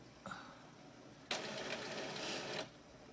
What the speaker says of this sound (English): My printer may be now deciding to print.